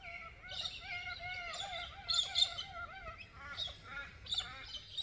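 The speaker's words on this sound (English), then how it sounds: "this morning, all this bird song welcoming the day" Dawn birdsong beside the Murray River in Australia, with several birds singing overlapping warbling, whistling phrases in steady bursts, fairly close and clear over a soft outdoor background.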